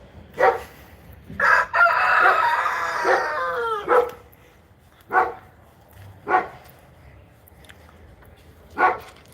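A nearby rooster crows once in a long, strained call, followed by a string of shorter sharp squawks and clucks spaced out over the following seconds.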